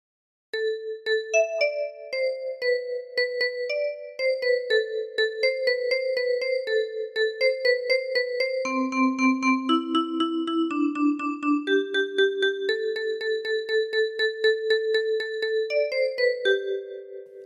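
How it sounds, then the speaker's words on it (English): A ten-key kalimba plays a full meme tune, a steady run of bright plucked metal-tine notes ringing alone for about seventeen seconds, close and clear with a lively bouncing rhythm. "Now try putting all the phrases together"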